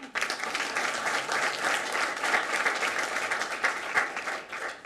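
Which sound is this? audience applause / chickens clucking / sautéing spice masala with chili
audience applause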